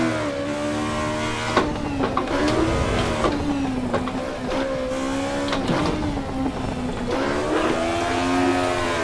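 BMW M2 race car in the Assetto Corsa EVO game, its engine revving hard and shifting through the rev range, pitch rising and dropping repeatedly with tire squeal as the car drifts, loud and continuous.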